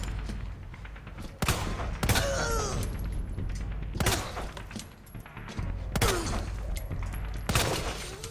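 Handgun gunfire in the Resident Evil 2 video game, a run of loud, sharp shots fired at an uneven pace over about eight seconds, with game effects and thuds between them.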